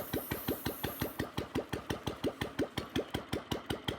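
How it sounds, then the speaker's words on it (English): Old Royal Enfield Bullet motorcycle idling after a fix for water-caused starting trouble, a steady single-cylinder thump at about five beats per second, close and even, running alone with no voices. "The engine has not stopped yet."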